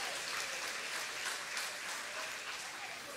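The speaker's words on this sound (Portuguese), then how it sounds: "Pode aplaudir e glorificar o nome do Senhor." Steady applause from a church congregation filling the room, a dense wash of clapping at even loudness with no talk over it.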